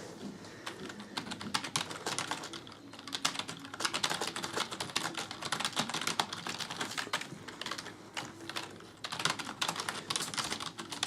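Continuous typing on a Cooler Master Storm Devastator gaming keyboard, a dense, steady stream of close, crisp key clicks and clatter running throughout with no talking.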